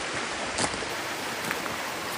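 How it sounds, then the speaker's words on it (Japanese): A river runs beside a campsite at night in Shimizu, Hokkaido, giving a steady, close broadband rush with a few faint clicks and knocks. No one speaks. "ここに川があります。"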